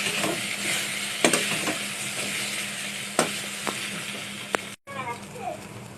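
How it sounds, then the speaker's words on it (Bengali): Eggs and spices frying in a pan for an egg tarka, giving a steady, close hiss of sizzling oil with scattered clicks from stirring. "এখন ডিমটা আর মশলা সব কিছু দিয়ে ভাজা হয়ে গেছে"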